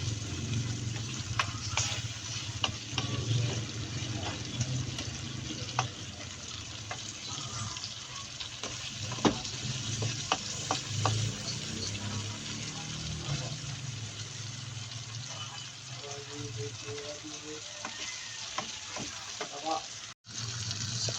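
Tomatoes and tiny shrimp (alamang) fry in a pan with a soft, steady sizzle and occasional stirring scrapes, quiet and continuous throughout.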